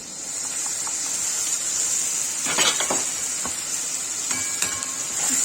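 Tomato puree with red chilli and turmeric sizzles and fries steadily in a pan as it is stirred and roasted, with a constant hiss and a few brief scraping stir sounds, close and alone.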